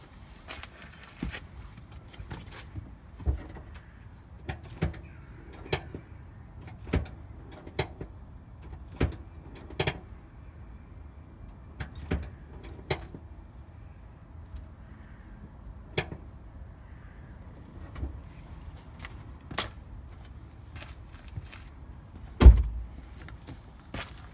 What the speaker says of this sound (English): Let me just do that handbrake one more time so you can have a look.